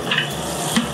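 Close, loud sizzling of chickpeas tempering with cumin and onions in a hot pan, a crackling hiss with a brief stirring clatter.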